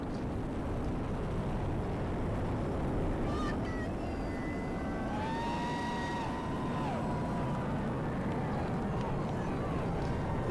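Falcon Heavy rocket with all 27 engines firing during the GOES-U weather satellite launch, a continuous broadband roar filling the whole clip, with faint tonal whistles rising and falling in the middle.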